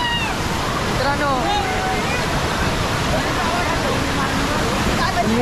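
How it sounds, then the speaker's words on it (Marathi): A waterfall near a village in Mahad, Raigad rushes down forcefully from the hills, a loud, steady roar with no break. Voices and shouts from people nearby come through over it. "पाणी एकदम फोर्समध्ये येतं"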